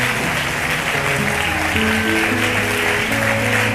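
Loud, sustained applause from a church congregation acclaiming Jesus, a dense wash of clapping with organ or keyboard chords sounding beneath it throughout.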